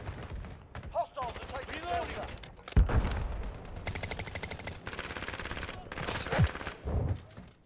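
Automatic weapon fire in a video game, bursts of rapid shots with booming impacts mixed with someone talking over the action at a moderate level.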